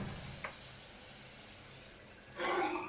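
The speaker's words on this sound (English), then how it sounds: "You can hear the sizzling sound." Green chilies and diced potato sizzle inside an LG microwave oven, a faint, steady hiss that swells into a louder crackling burst near the end.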